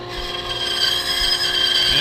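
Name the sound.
bandsaw cutting wood for a catapult part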